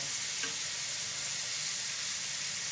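Fish frying in oil in a pan, a steady dense sizzle that hisses continuously and evenly throughout, close and fairly loud, with no talk.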